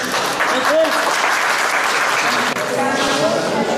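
Applause from a crowd at the opening of a school park runs dense and steady for a few seconds, close and loud, with voices calling out over it.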